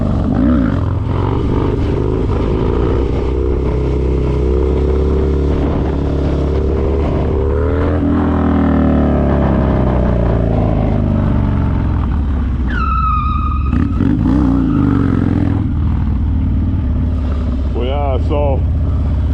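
A dirt bike engine revs and drones continuously during wheelie practice in an open lot, a loud close rumble with rising and falling pitch, a voice talking over it.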